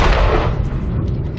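A loud explosion in the video game Hitman 2 bursts out at once as a broad, rumbling blast, then slowly decays into a rough roar over about a second and a half, with no voice over it.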